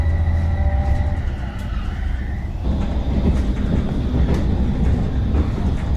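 A train rolls out of Giurgiu Nord toward the Soviet-built friendship bridge into Bulgaria, its steady loud rumble and wheel noise continuous throughout, with a tonal whine that shifts partway through.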